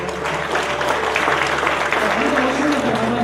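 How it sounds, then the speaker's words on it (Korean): During a Sunday church service, the congregation applauds to welcome visiting missionaries, a steady, moderate roomful of clapping with voices talking faintly underneath. "그거 박수로 한번 환영할까요?"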